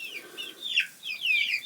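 Several chickens cluck and squawk in quick, overlapping calls, near and fairly loud, with no voices.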